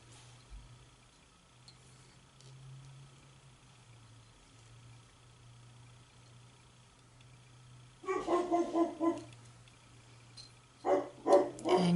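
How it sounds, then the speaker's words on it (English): A pet dog barks in two short bursts of several barks each, at a moderate distance indoors, with a low steady hum underneath and no talking. "you can hear my dog barking"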